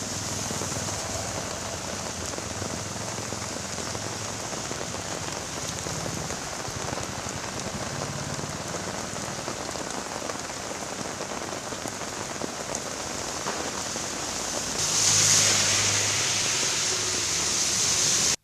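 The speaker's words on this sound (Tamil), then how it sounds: "திடீரென கருமேகங்கள் சூழ்ந்து மழை கொட்டியது." Heavy rain pours steadily over Kodaikanal, a dense continuous hiss of drops on surfaces that holds throughout and swells louder near the end.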